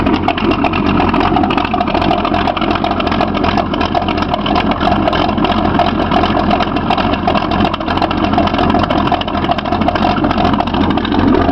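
A loud, steady car engine rumble idling continuously with a deep, throaty tone through true dual 2 1/4-inch exhaust, no noticeable revving.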